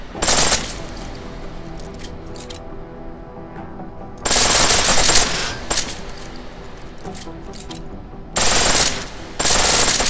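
Bursts of rapid full-auto pistol fire in Deus Ex: Mankind Divided at a shooting range, loud and close, in three separate volleys with short pauses and faint clinks between.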